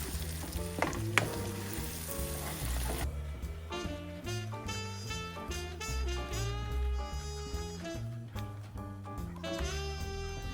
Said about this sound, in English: Now add the urad dal in it and cook it for like 5 to 7 minutes at the low temperature.